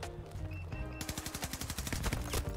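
Rapid bursts of PP29 submachine gun fire in the Battlefield 2042 video game, sharp repeated shots rattling close and loud in quick rhythmic strings over other battle noise.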